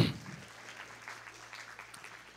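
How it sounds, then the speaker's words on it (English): Faint, distant audience clapping at a church conference, a soft continuous patter over a low hum, with no voices. "Clap for that one."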